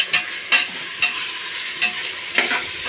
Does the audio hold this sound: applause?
no